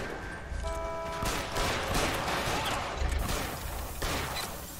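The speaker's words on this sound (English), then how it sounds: "I shot you in the ass twice." Rapid bursts of gunfire from a shootout in the crime video game L.A. Noire, loud and close, with clustered shots and crashing impacts filling the whole stretch.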